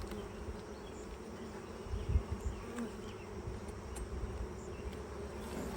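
Honey bees buzz around an open hive during an inspection, a soft continuous drone with a few louder passes as individual bees fly close.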